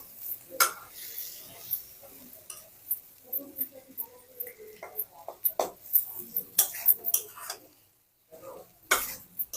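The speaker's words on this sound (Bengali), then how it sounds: "আপনারা দেখেন চিংড়িটা কষিয়ে নিচ্ছি" Prawns for a prawn malai curry are sautéed and stirred in a pan, giving irregular scrapes, clinks of a utensil and a faint sizzle in short bursts, with a brief quiet gap near the end.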